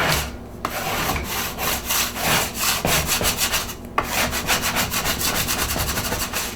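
Fondant for chocolate-covered strawberries is scraped and rubbed across a sugared work surface, giving a steady rhythmic gritty scraping of repeated strokes, close and fairly loud.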